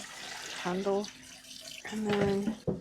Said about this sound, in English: Sometimes I like to plug my sink, get cold water in there